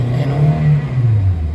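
A Toyota Avanza with low power and delayed throttle revs its engine to around 4,000 RPM, a short, loud, close droning rise and fall.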